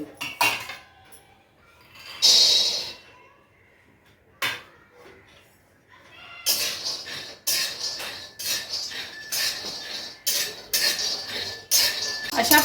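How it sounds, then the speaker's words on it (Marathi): Peanuts dry-roasting in a metal kadhai are stirred with a spatula, giving rapid scraping and rattling bursts that grow steady and loud in the second half, after a few earlier clanks. "आता ह्याच कढईत आपण शेंगदाणे भाजून घेऊ"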